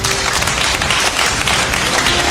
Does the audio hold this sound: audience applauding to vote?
yes